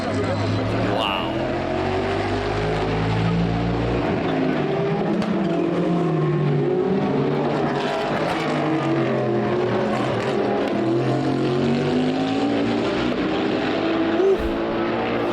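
NASCAR stock car engines at Le Mans roar past at full throttle, loud and continuous, their pitch rising and falling as the cars race by.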